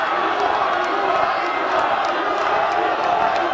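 A debate hall audience for a Palembang mayoral candidates' debate gives a sustained, steady roar of applause and crowd noise, dense and even throughout with no pauses.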